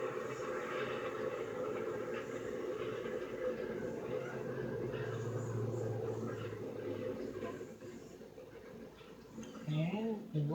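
A rotary snowplow train grinds through a snow drift on a railroad line, a steady loud rumbling roar with machinery noise throughout, some voice-like tones mixed in near the end.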